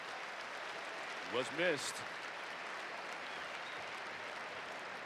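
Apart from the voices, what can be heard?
basketball arena crowd applauding, an ovation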